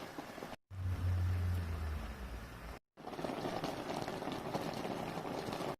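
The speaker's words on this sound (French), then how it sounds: "On va ajouter à l'eau bouillante les feuilles." Water boils hard in a pot with leaves cooking in it, a steady close rumbling bubble with a brief cutout partway through.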